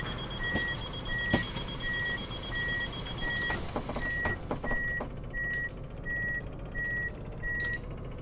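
Bus doors opening on an SOR CN12 bus in the OMSI 2 driving simulator, with repeated evenly spaced electronic warning beeps over a steady engine and interior hum, plus a few sharp mechanical clunks.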